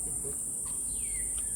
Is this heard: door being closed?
no